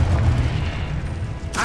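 A Confringo fire spell bursts in Hogwarts Legacy, a deep rumbling boom that rolls on for over a second before fading, followed by a brief sharp crackle.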